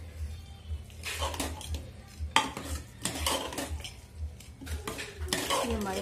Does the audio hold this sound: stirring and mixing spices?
yes